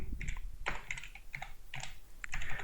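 Quick bursts of typing on a computer keyboard, close and clear clusters of key clicks separated by short pauses.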